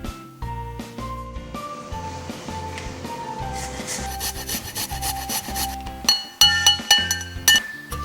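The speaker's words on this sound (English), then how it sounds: "Grate or finely chop a clove of garlic and ginger of about the same size." A clove of garlic and a similar-sized piece of ginger are grated, giving close, repeated rasping scrapes, with light clinks and faint background music.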